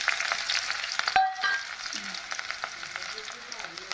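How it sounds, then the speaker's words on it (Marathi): Green chili, garlic and onion sizzle and crackle steadily in hot oil, close and fairly loud, with a brief sharper burst as the ingredients hit the pan. "तेल गरम झालेलं राहायचं. आता मी टाकते त्यात हिरवी मिरची, लसण आणि कांदा."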